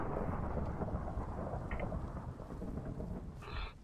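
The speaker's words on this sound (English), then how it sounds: "Oh, thunder." A rolling peal of thunder in Minecraft rumbles low and steady for a few seconds, filling the whole span with a broad, loud roar that eases slightly near the end.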